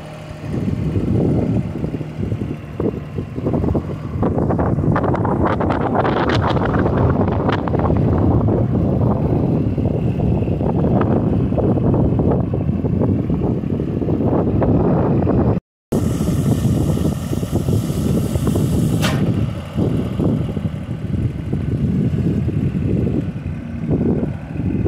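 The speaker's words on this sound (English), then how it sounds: "even princesses like to drive tractors." A tractor engine gives a steady, loud rumble throughout, with wind buffeting the microphone and a brief dropout near the middle.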